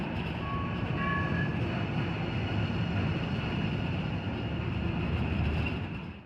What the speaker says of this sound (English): Here comes the train. We get to ride it.